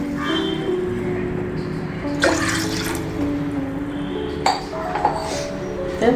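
Water runs steadily into a metal pot, with a few clinks of the vessel against a hard surface.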